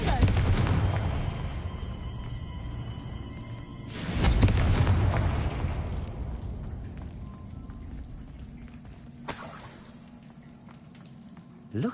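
Confringo and Bombarda spell blasts going off in Hogwarts Legacy: two heavy booming bursts a few seconds apart, each with a rumbling decay and crackle, a sharper flash near the end, with a voice speaking between the blasts.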